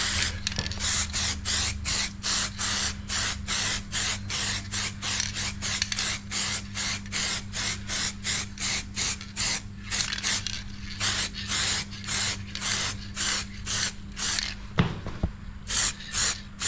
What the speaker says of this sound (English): Easy to spray on too.